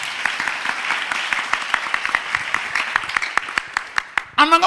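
A church congregation claps in a quick, uneven patter that swells slightly, with a voice breaking in at the very end.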